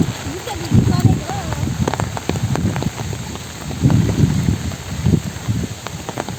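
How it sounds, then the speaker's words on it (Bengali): Rain falls steadily during outdoor net fishing, a continuous patter under bursts of nearby people talking. "বৃষ্টি।"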